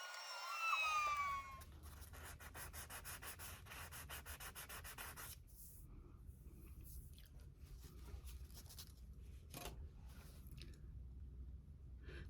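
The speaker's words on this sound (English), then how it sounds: "I'm now going to sand it down with 600 grit" Steady, fine scratchy rubbing of 600-grit sandpaper on a hard surface, rapid back-and-forth strokes, close and fairly quiet, with a brief squeak at the start.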